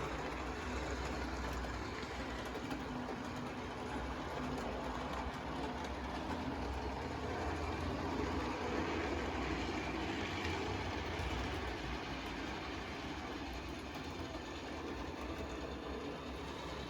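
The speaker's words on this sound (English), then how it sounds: "we will see if we can pull the train out of the station" A model train pulls out of a station, rolling steadily along with a continuous rattling rumble and faint clicking of wheels on track, fairly quiet and unbroken, with no talking.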